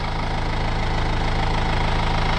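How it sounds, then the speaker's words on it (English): Engine of a Kubota M6040 four-wheel drive tractor with front end loader runs steadily nearby, a loud, constant diesel drone with a rhythmic low knock and no talk. "So the tractor I'm using is a M6040 Kubota, four-wheel drive"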